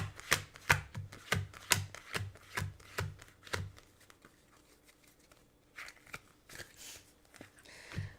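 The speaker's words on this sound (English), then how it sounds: "I'm just shuffling the two decks together," Two decks of cards riffled and bridged together in a quick run of crisp, rhythmic bursts, then a few scattered softer shuffles and taps, close up.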